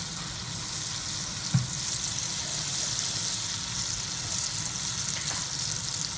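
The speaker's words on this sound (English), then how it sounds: "Then let the butter melt." Butter with a dash of olive oil melting in a hot pan, giving a steady close sizzle and crackle throughout, with one brief clink partway through and no talking.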